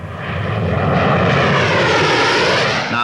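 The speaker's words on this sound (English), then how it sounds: "Spectators presently had a particular thrill when they saw the English electric P-1, the first British aircraft to exceed the speed of sound in level flight." English Electric P-1, the first British aircraft to break the sound barrier in level flight, making a low pass at the Farnborough air show in the 1950s: a loud, steady engine roar that swells and holds for about three seconds.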